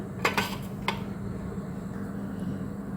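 A few sharp clinks and taps of eggs being cracked against a pot, then poured into simmering ridge gourd egg gravy, with a steady low bubbling hum from the boiling pot underneath.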